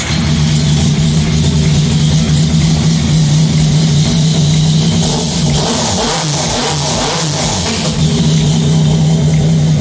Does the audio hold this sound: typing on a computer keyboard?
no